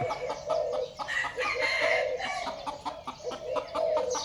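A gamecock crows repeatedly at close range, with other fowl calling and clucking around it in a lively, overlapping chorus.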